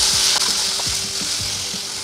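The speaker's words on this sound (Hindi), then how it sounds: "और साथ में थोड़ा सा गाजर कटी हुई इसको भी इसमें डालूंगी। और इनको भून लूंगी।" Chopped carrots and mixed vegetables sauté in a hot pan, giving a steady sizzle with a few scraping stirs from a spoon.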